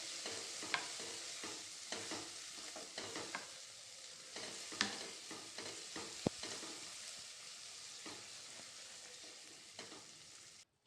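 Tomatoes being sautéed with onions and green chillies in a pan for a Vidarbha-style zunka, a steady soft sizzle broken by scrapes and clinks of stirring, with no voices.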